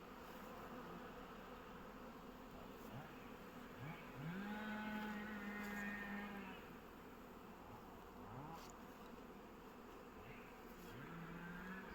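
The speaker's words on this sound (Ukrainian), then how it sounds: "Так, гул стоїть взагалі суперовий." A loud, steady hum of many bees fills an apiary. Near buzzing rises and falls as individual bees fly past, and a few faint voices sound far off.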